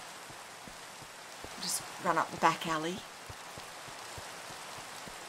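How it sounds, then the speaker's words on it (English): Rain in Minecraft falls as a constant gentle hiss with light ticking drops, while a person speaks briefly over it midway. "I love the rain."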